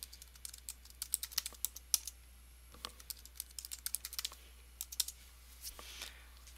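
Fingers tap out a password on a Mac computer keyboard, a close run of quick, crisp key clicks in irregular bursts over a faint steady room hum.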